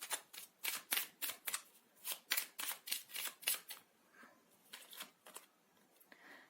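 Tarot cards are shuffled by hand, producing a rapid series of crisp papery riffles and slaps close by, pausing briefly before a few more.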